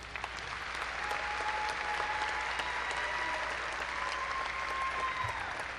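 Graduates at a university fall commencement ceremony receive sustained applause from a large crowd, with steady clapping at moderate distance throughout.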